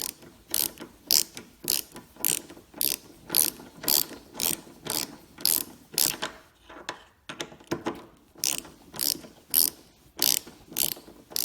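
A ratchet wrench tightens a tail light screw on a 2008–2019 Dodge Grand Caravan: a close, steady series of clicking ratchet strokes in even rhythm, briefly pausing midway before resuming, with no talking.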